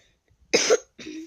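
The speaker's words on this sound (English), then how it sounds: "Sorry for the coughing. I have a cough and a cold." Two harsh coughs close to the microphone, a short sharp burst followed by a slightly softer one, with no other sound around them.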